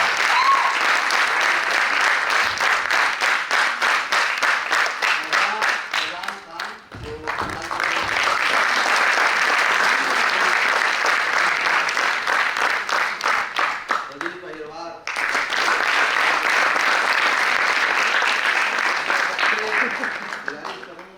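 Audience applause for performers at a stage show, loud dense clapping that runs in long waves, briefly dipping twice before swelling again, close and sustained.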